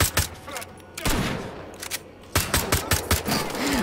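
Bursts of gunfire on the docks in Wolfenstein: The Old Blood, including enemy shotgun blasts: loud sharp reports in uneven clusters, some close together, with brief lulls between volleys.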